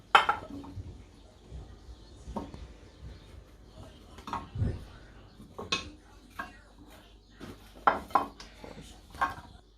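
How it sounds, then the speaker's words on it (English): Chopped potato pieces drop into a cooking pot, giving a series of soft thuds and light clatters with occasional metallic clinks of a spoon, fairly quiet and close. "I'm now going to add in the chopped potato."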